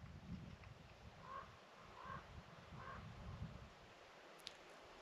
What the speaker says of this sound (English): I hear squawking crows, of course,